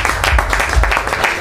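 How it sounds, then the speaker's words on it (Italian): Audience applause at a local political meeting about a municipal budget, a short burst of close, fairly loud clapping from a crowd. "Qui merita l'applauso."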